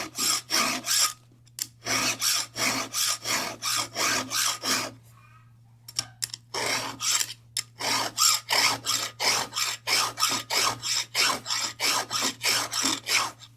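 Steady rhythmic rasping of a hand file sharpening a chainsaw chain, dozens of even strokes close up, with a brief pause in the middle before the strokes resume over a low hum.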